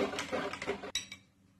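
A spoon whisks crêpe batter in a bowl with quick scraping strokes that end in a sharp clink against the rim. The stirring fades to quiet after that.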